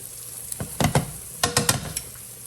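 Basil pesto in oil cooking in a pan over medium heat, heard as a soft sizzle broken by several sharp, close scraping and stirring strokes, with no voices.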